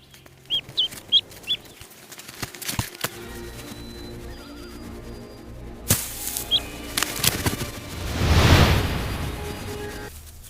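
A mother hen clucks close by in short repeated calls to gather her chicks, with faint chick peeps, some rustling and a brief burst of wing flapping, and no talk.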